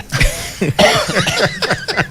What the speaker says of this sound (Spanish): Que me bajó la alergia. El ataque de tos